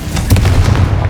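Confringo fire-blast spell exploding in the game Hogwarts Legacy, a single loud, deep, booming burst with crackling texture that rolls on for about a second.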